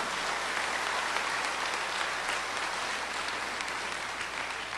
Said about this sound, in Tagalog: Isa nga pong malakas na palakpak sa ating Panginoon.